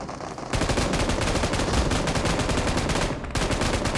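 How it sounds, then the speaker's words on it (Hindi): Gunfire in the battle royale game BGMI: rapid automatic bursts rattle in a fast, even rhythm, loud and close, with a brief pause just after three seconds before the shooting resumes. "सामने वाले कंपाउंड से फायरिंग की साउंड आती है"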